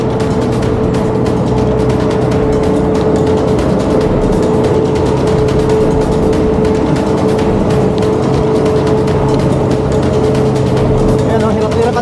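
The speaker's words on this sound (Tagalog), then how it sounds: "Ayan o, hirap-hirap ang truck." A truck labours up a steep roughly 12% grade on the Canyon Woods road toward Tagaytay, its engine a loud, steady, straining drone that fills the whole stretch while people talk nearby.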